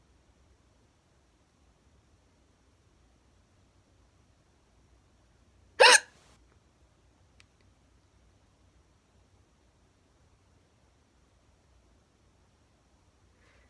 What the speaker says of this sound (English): I hate hiccups so much.